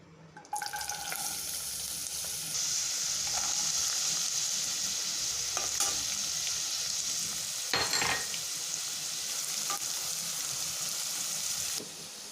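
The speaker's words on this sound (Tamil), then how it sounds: "ஆயில் சூடானதும் நம்ம கட் பண்ணி வச்சிருக்கிற காய்கறிகளை ஒன்று ஒன்றா ஆட் பண்ணிடலாம்" Chopped vegetables stir-frying in hot oil for vegetable fried rice, a loud steady sizzle that jumps up as they hit the pan, with a few scraping stirs and clinks throughout.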